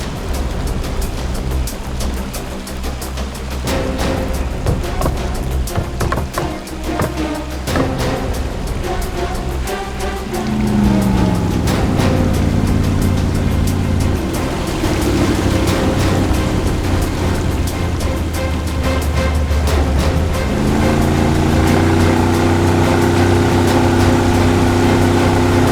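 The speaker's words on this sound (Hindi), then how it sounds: "बोट स्टार्ट करो, बोट।" A boat engine starts and keeps running loud and close, with a steady droning hum that revs up noticeably twice.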